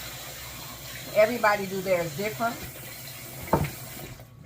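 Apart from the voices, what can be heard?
hot water running from a faucet to wet a hat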